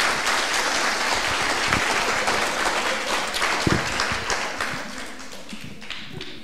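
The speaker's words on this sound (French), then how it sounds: "Vous pouvez reprendre vos places sous les applaudissements." An audience at an education project awards ceremony applauds steadily, a dense wash of many hands clapping that slowly fades toward the end.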